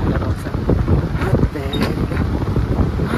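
Wind blowing outdoors at a river ghat roars steadily and loudly against the microphone, a rough, buffeting rush that fills the short stretch without a break.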